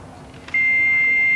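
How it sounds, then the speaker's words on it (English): A loud, steady electronic fax transmission tone over a phone line starts abruptly and holds unbroken to the end, after a quieter stretch of line noise. "and then a sort of loud beep"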